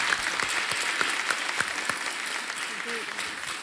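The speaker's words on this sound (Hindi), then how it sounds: "तालियां बज जाएं इनके लिए।" A studio audience on the quiz show Kaun Banega Crorepati applauds a contestant with steady, moderate clapping, some individual claps standing out sharply, and voices murmur faintly beneath.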